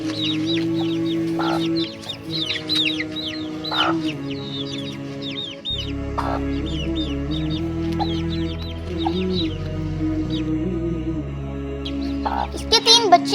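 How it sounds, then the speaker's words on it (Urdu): Chickens, including Aseel fowl at a house yard, cluck repeatedly in short, close bursts amid a busy background hum of other birds and a low steady drone. "یہ ان کی مرغیاں"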